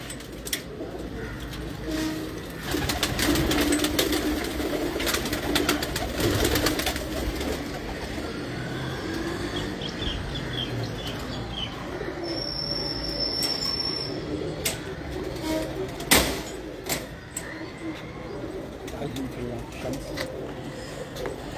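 Pigeons kept in a loft coo and flutter over a bustling, noisy background with steady talk from people nearby, the birds' low murmurs blending into the chatter throughout.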